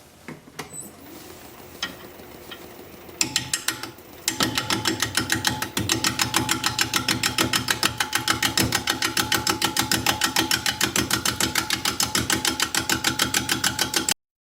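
A wood lathe spins an out-of-balance bowl blank at about 400 RPM while a 5/8 inch bowl gouge cuts it, giving a steady loud rhythmic thumping and scraping after a few quieter seconds.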